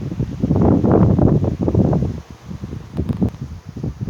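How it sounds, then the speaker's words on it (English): Wind gusts through a field of dahlias in September, with leaves and stems rustling loudly in uneven surges and a brief lull partway before the gusts pick up again. "that wind is getting up"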